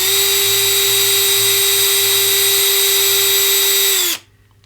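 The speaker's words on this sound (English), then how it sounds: "I'm gonna drill now, and I'm just gonna drill through the plastic" A small power drill bores through a plastic fretboard dot into a guitar neck, giving a steady high whine that runs for about four seconds, then stops abruptly.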